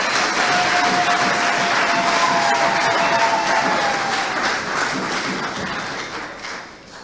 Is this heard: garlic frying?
no